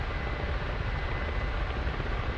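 Ka-50 attack helicopter in a video game, its rotor and turbine engine droning steadily and loudly throughout, a dense unbroken roar with no voices.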